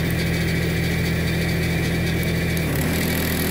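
A backlapping machine runs steadily for Jacobsen and Toro mower reels, giving a continuous mechanical drone with a low hum throughout, close and moderately loud, with no talking.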